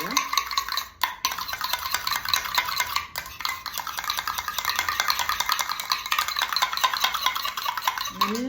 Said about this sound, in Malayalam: ഇനി ഇത് നല്ലപോലെ ഒന്ന് മിക്സ് ചെയ്യണം